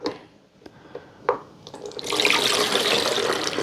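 Homemade liquid air freshener is poured into a spray bottle after a few light taps and clicks, then flows in a steady, loud, close-up stream until the end.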